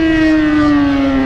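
A motorcycle fitted with its original exhaust blares a loud, sustained droning note that sags slightly in pitch over about a second, close and alone.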